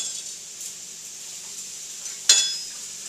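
Garlic hitting a hot pan for vegetarian chili, with a faint steady sizzle and then a sudden louder hiss that flares and slowly fades, no talking.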